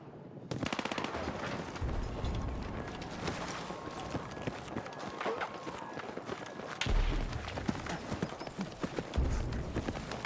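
Rapid automatic gunfire and bursts from the Battlefield 6 beta on PC, dense and continuous across the whole stretch, with heavier thumps near the end and a shotgun-wielding enemy nearby.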